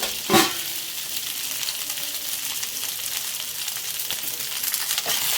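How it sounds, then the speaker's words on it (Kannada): Cut okra fries in hot oil, a dense crackling sizzle that runs steadily throughout, opened by a sharp clatter as the pieces go in, with a few light stirring knocks later. "ಸ್ವಲ್ಪ ಆಯಿಲಲ್ಲಿ ಫ್ರೈ ಮಾಡ್ಕೊಳ್ಳೋದ್ರಿಂದ ನೀಟಾಗಿ ಫ್ರೈ ಆಗುತ್ತೆ ಈಗ ಕಟ್ ಮಾಡ್ಕೊಂಡಿರೋ ಬೆಂಡೆಕಾಯಿನ ಸೇರಿಸ್ಕೊಳ್ಳೋಣ"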